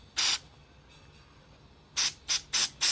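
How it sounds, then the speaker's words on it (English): Carb cleaner sprayed into a Tillotson marine carburettor: five short, sharp aerosol hisses, one early burst then four quick squirts in a row, close up. "if you squirt your carb cleaner in here"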